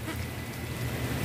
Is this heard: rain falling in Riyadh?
yes